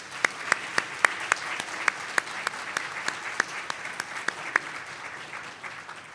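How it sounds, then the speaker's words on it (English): Applause from a luncheon audience, a steady round of clapping with sharp individual claps standing out over a dense wash, moderately loud and continuing throughout with no talking. "Please join me in a round of applause."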